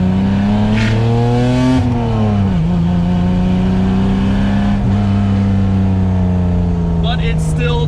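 BMW E30 with a swapped 2.5-litre engine revs hard through a straight-through exhaust without mufflers, its loud, raspy drone climbing, dipping and holding over several seconds.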